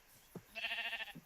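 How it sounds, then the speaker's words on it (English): A video game sheep bleats once, a short, nasal, wavering call. A soft click comes just before and another just after, and the clip is otherwise quiet with no voice. "Sheep"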